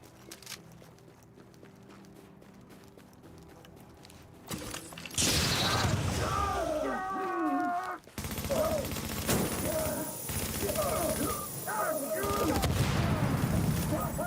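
Gunfire erupts in The Division after a quieter start, bursts of rapid shots with mechanical clatter and game noise, fairly loud, with a voice talking under part of it.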